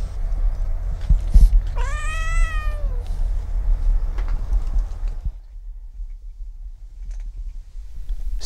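A cat at a cat shelter lets out one drawn-out, wavering meow, close and clear, amid light clicks and a low background rumble, followed by quieter room ambience.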